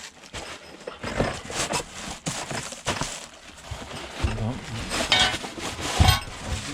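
Heavy Robens Bighorn three-legged cast iron pan being handled and opened, with repeated metallic clunks, scrapes and clinks of lid and body at close range, the knocks growing louder toward the end.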